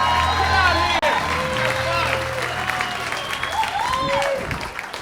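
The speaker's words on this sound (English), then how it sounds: "A big round of applause for Ann Dmuchowski" A comedy-show audience applauds to welcome performer Anne Dmuchowski to the stage, a dense wash of clapping and crowd noise with voices calling out over it, easing slightly toward the end.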